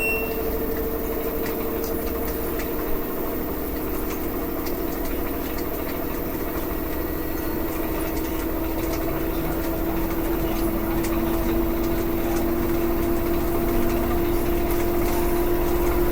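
An LG WM3600HWA washing machine on a heavy duty cycle spinning up toward 1,000 RPM: a continuous motor hum and whir with a tone that climbs slowly, steady and moderately loud, with no voices.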